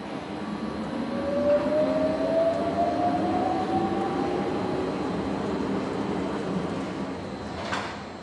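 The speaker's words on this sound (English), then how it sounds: "The honey spins to the outer wall of the centrifuge and drains into a holding tank." A honey extraction centrifuge spins frames for Manuka honey with a broad continuous whirring rumble and a faint rising whine, with a brief clatter near the end.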